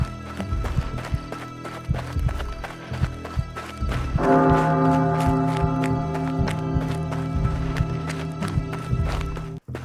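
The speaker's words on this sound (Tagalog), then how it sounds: "Lalo kong naririnig ang mabigat na pagakbang sa likuran ko." Heavy footsteps run from behind as a horror sound effect, giving loud, steady thudding beats throughout. A low droning tone joins partway through and carries on under the steps.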